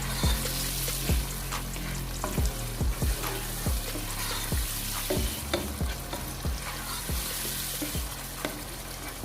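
Garlic ginger paste frying in a pot for dal, a steady loud sizzle with repeated scraping stirs knocking the pot at a regular pace throughout, no talking.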